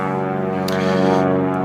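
A steady airplane drones overhead, a continuous low harmonic engine hum that holds evenly throughout with no talking.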